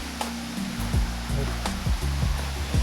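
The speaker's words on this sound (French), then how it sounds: "On va entendre le bruit de l'eau qui coule." A jungle waterfall near Taiping pours in a steady, rushing roar of flowing water that holds at an even level for the whole stretch, with no voices over it.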